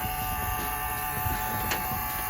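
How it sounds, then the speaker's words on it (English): Continuous electric buzzing with steady tones from the door-open buzzer of a 1972 Oldsmobile 442, heard close and unbroken over a faint mechanical hum, with no talk. "Door open buzzer."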